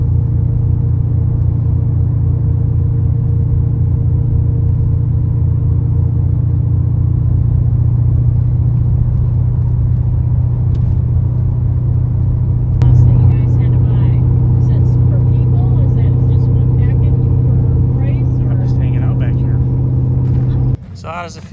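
Chevrolet Impala driving, its engine a steady low rumble heard from inside the cabin, with a slight rise in engine note partway through and people talking over it.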